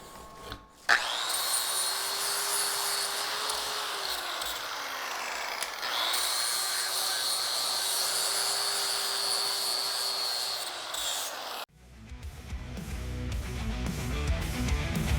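Grinding small metal pieces for an amphibious buggy build: a continuous close abrasive whine with two long passes broken by a short pause, the tool's pitch sagging under load, then cutting off into clattering shop noise.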